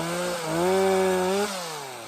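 A powered drill bores a tap hole into the trunk of a maple tree, its motor whining in a steady harmonic drone that rises in pitch as it bites and then eases back down, close and alone.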